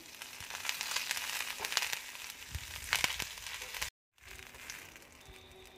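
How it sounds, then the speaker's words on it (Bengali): Curry leaves frying in oil give a crackling, crinkly sizzle with a few sharper pops, moderately loud and continuous apart from a brief gap. "দেখো কারি পাতাটা হালকা করে ভাজা হয়ে গেছে।"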